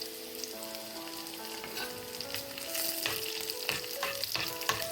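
Small onions and dried red chillies fry in a pan with a continuous crackling sizzle that grows slightly busier toward the end, heard up close with light stirring and no voices.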